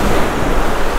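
Surf crashes and churns along the shore during striped bass fishing, a loud, steady rush of breaking waves mixed with wind buffeting the microphone, no voices.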